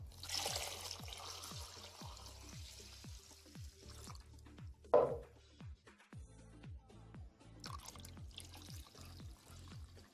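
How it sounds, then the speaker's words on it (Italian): Water is added to a pot of chicken and lentils, a soft splashing trickle over a low hum and a steady series of faint clicking ticks, quiet and close. "aggiungo l'acqua"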